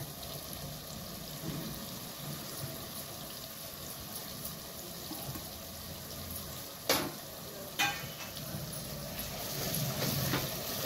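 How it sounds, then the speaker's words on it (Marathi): Spices and ginger-garlic paste sauté in a pan, a steady soft sizzle running throughout, with a couple of sharp spoon or pan clinks partway through and the sizzle swelling slightly toward the end. "छान परतूया मसाले"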